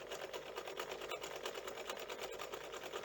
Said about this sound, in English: I'm actually sewing this in white cotton